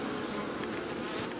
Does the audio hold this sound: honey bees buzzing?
yes